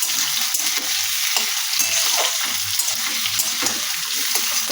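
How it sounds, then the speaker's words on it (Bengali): Potatoes fry with cumin in a pan, giving a loud, dense, continuous sizzle with faint scraping from stirring throughout. "তো এবার আলুটাকে এখানে ভেজে নিচ্ছে আমার মা"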